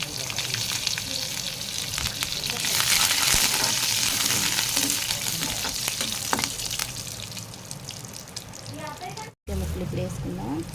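Curry leaves crackle and sizzle loudly in hot oil for mango ulava charu, a steady dense frying hiss that swells around the third second, with stirring scrapes and a brief break near the end.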